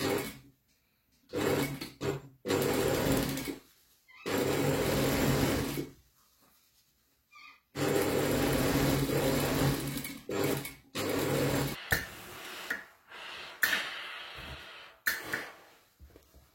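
A sewing machine stitches both sides of a farmhouse-style fabric pocket at a 1 cm seam, running in several bursts of steady close whirring with short pauses and softer handling sounds between runs.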